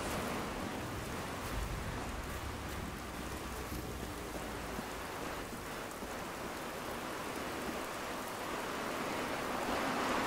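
Steady rain in the video game Generation Zero pours down in a dense, constant hiss with a faint low rumble beneath, no voices.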